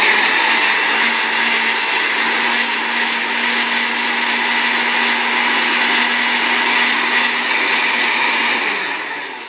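A blender on its smoothie setting whirs loudly and steadily for several seconds, blending spinach, a dense continuous roar with a faint hum underneath, easing off slightly at the very end.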